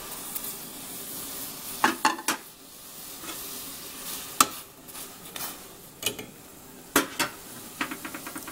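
Straw mushrooms going into a simmering chayote soup, with scattered clinks and soft stirring scrapes of a utensil against the pot, fairly quiet with short sharp knocks spaced irregularly, and no talking.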